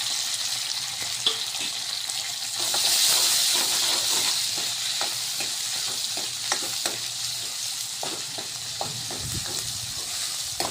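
Tomato and ginger-garlic paste fry with onion in a pan for a spicy brinjal dish, a constant close sizzle and hiss that swells briefly, with scattered clicks of stirring and no talk.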